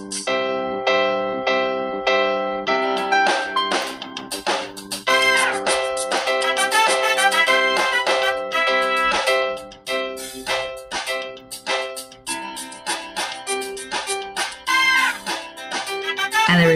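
Online Quaver music loop with a Latin bass line repeating eight bars, heard as dense, continuous layered instrumental music with steady rhythm and no speech over it.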